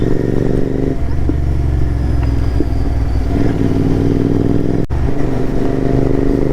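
Motorcycles including a GT650, a Duke 390 and an Adventure 390 ride at night, their engines droning loud and close in a steady low rumble with slight pitch shifts and one sharp knock midway.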